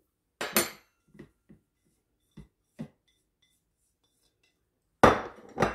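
Flour, salt, pepper, garlic and onion powder being mixed into milk in a bowl, heard as a few isolated utensil clinks and taps against the dish, with a louder burst of scraping stirring at the end.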